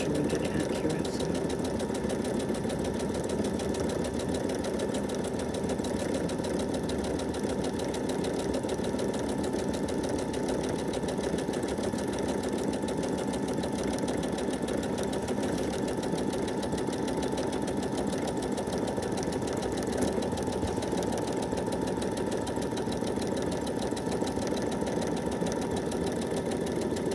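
A sewing machine runs continuously, stitching a thermal-lined Roman blind with a steady mechanical whir and rapid needle rhythm that stays close and even throughout, with no pauses.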